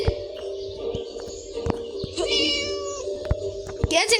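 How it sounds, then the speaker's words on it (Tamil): A cat meows repeatedly in the Scary Teacher video game, cute short mews over a looping game melody, with a person talking in between. "கியூட் பூனை"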